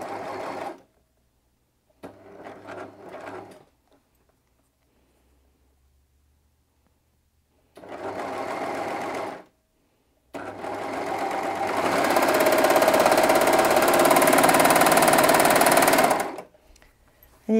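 A Brother 2104D overlocker stitching with its gathering foot, running in short whirring bursts separated by pauses, then one longer loud continuous run close by.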